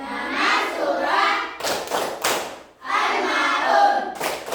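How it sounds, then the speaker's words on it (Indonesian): Classroom group of standing students chanting in unison, their voices broken by bursts of rhythmic hand clapping in short clustered strokes between chanted phrases, loud and close. "Kita tepuk surah Al-Maun."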